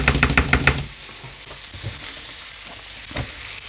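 Meatballs in a mushroom sauce are stirred in a pan: a few quick clattering knocks open it, then a softer, even sizzle and bubbling carry on with occasional scrapes.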